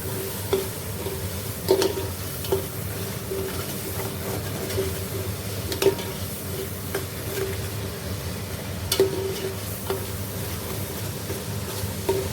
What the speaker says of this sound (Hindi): अभी मसाले को भून रहे हैं अच्छी तरह